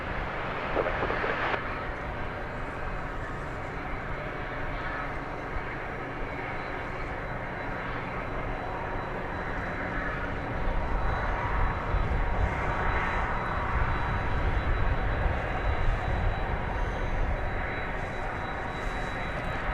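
Jet engines of a Boeing 767, recently arrived from Manchester, whine and rumble steadily at Dallas Fort Worth Airport, the roar growing slightly fuller toward the end, unbroken by speech.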